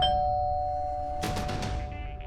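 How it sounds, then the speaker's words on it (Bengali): A doorbell rings once with a bright ding-dong chime that rings out and fades, loud and close after a tone-filled quiet moment indoors. "এখন আবার কলিং বেল বাজায় কি?"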